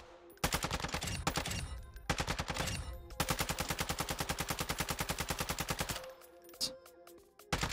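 Assault rifle fire in the Warzone video game with a 45-round magazine: several rapid automatic bursts, loud and close, the last long sustained string ending in a brief pause.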